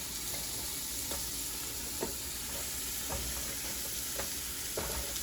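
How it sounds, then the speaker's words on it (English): Potatoes sizzle steadily in a hot pan with a few soft knocks as tongs turn them, the frying hiss continuous and fairly quiet. "Now, halfway, we can go ahead and flip our potatoes."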